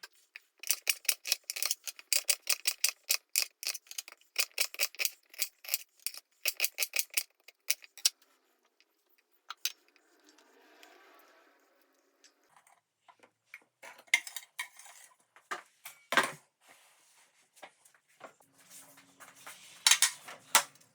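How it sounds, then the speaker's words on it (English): A knife chops peeled, halved onions for dehydrating in quick, sharp, rhythmic cuts on a board, close and crisp, then a quieter gap before more scattered chopping resumes. "now I'm going to chop them up for the dehydrator"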